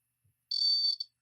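A REM pod ghost detector gives a sharp, high electronic alarm tone lasting about half a second, then a brief second beep and the start of a third, loud and close in near silence.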